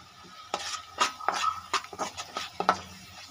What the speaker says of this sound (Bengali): সেই মশলাটা আমি ঢেলে দিলাম।